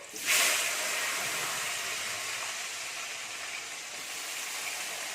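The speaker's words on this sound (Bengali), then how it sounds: "আমার তেলটা প্রচুর গরম আছে এর মধ্যে আলুগুলো দিয়ে দিচ্ছি আলুগুলোকে একটু লাল লাল করে ভেজে নেবো" Potatoes dropped into very hot oil sizzle with a sudden loud burst of hiss that settles into a steady, crackling fry, close and continuous with no talking.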